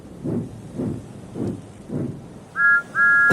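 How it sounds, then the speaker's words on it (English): A train whistle sounds twice, short clear tones that follow several low rumbling chuffs, all fairly close and with no talk. "Then he heard a whistle."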